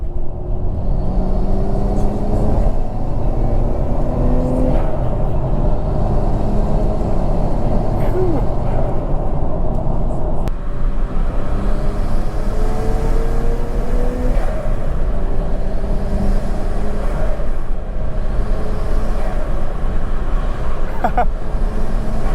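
A Nissan Skyline R34 GT-R driving, its engine a steady loud rumble with rising and falling gear tones under constant road noise, heard from inside the car.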